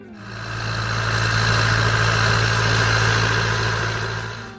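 A 1965-era blue and white Ford 5000 farm tractor engine idles close by, a steady low mechanical hum with a firm buzzing tone that swells up, holds evenly for several seconds, then eases back.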